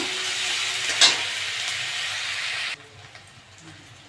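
Ginger garlic paste fries in oil after onions for a Bengali tilapia jhal, with a steady close hiss and sizzle plus a stirring knock, which drops abruptly to a faint background.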